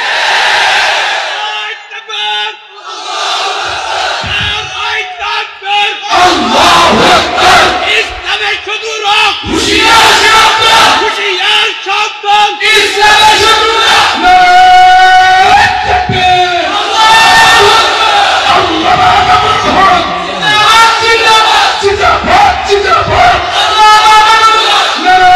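A large crowd at a rally chanting freedom slogans in unison, loud and continuous, with rhythmic surges of massed voices and shouts that swell and repeat.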